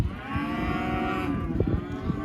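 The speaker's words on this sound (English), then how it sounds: "These girls will bawl for a couple days." Heifers bawling on a cattle farm on sale day: a long, loud, close moo runs through the whole stretch, with another bawl beginning near the end.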